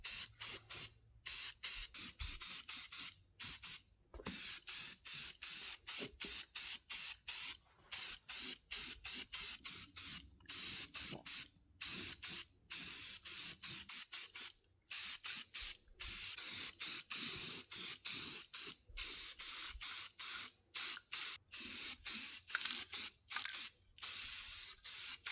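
Rapid bursts of spray paint hiss close by as a 1998 Jeep ZJ is painted, short repeated blasts separated by brief pauses, with a few longer continuous passes and no talking.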